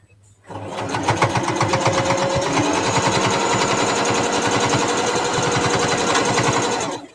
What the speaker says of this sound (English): I'm back stitching at the join